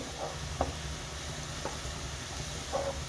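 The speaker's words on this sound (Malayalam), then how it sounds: "ഉള്ളിയൊക്കെ നല്ലതുപോലെ വഴന്നു വന്നിട്ടുണ്ട്" Onions sautéing in a pan for chicken thoran, a soft steady sizzle with a few light spatula knocks and scrapes, fairly quiet and with no voices.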